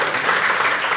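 A crowd at an awards event applauds, a dense, even burst of clapping filling a short moment with no talking over it.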